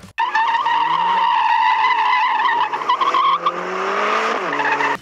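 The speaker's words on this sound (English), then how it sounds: "another 4-wheel drive drift car" A four-wheel-drive car drifts with loud, sustained tire squeal and a high revving engine, the screech wavering in pitch and continuing almost without break.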